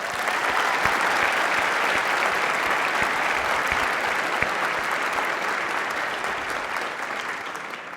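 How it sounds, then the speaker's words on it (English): An audience at a university event applauds for Governor Kasich, steady dense clapping from a large crowd that stays loud and even for several seconds before tapering slightly at the end. "So let's give another round of applause for Governor Kasich."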